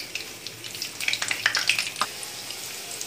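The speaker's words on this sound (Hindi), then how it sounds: "ये देखिए ये कितने अच्छे से फ्राई हो रहे हैं।" Potato cutlets with chicken and vegetable filling frying in oil, a close crackling sizzle with bright popping spatters clustering in the middle, no talk.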